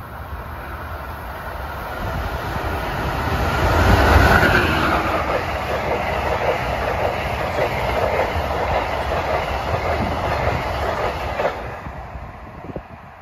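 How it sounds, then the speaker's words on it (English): The Amtrak Silver Meteor passenger train, running New York to Miami on the Northeast Corridor at Rahway or Princeton Junction, roars past close by, swelling to a loud peak, then a long clattering rush of cars that fades out. "So here comes 97, the Silver Meteor in New York to Miami with guess what is pulling it?"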